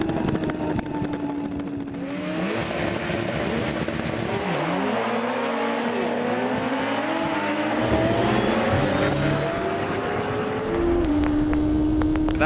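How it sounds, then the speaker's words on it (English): BMW HP4 superbike accelerating hard on a soaking wet practice run, its engine note climbing steadily through repeated gear changes, loud and continuous with spray and wind roar underneath. "here's what it feels like being strapped to an HP4 during a soaking wet practice run"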